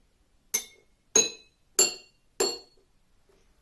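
Drinking glasses filled to different water levels, from full down to empty, struck one after another: four clear, ringing glass clinks at an even pace, each decaying quickly, with no talk over them.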